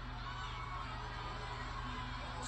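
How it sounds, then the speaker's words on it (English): Wrestling crowd at a women's match involving Bayley, Alexa Bliss and Nikki Cross, giving a steady, moderately loud roar of cheering and babble that holds evenly throughout without a distinct peak. "Crowd getting behind Bayley"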